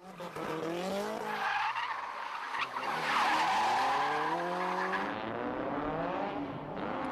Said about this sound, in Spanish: los coches derrapan deliberadamente para hacer una serie de trompos